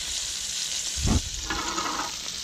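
Breaded yellow jack fish frying in hot oil with a steady, close sizzle and a brief louder burst partway through.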